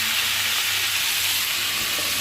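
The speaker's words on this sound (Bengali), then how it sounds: "আর এই আলু ফুলকপিটা একটু ভেজে নিই" Potato and cauliflower pieces frying in a pan give a steady, soft sizzling hiss that stays even throughout, with no talking.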